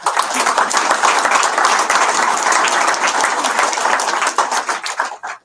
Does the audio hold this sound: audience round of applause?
yes